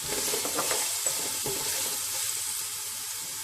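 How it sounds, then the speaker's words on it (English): Green chilies and onions sizzle and fry in a pan, a steady, close crackling hiss with a few stirring scrapes near the start, no voices. "Make sure you fry these onions to the golden brown color."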